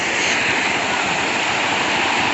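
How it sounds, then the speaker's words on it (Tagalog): Continuous rushing water, a steady broadband roar of the fast-flowing Istrabiyal river in Bulacan close by, with no voices. "Naririnig niyo yung agos?"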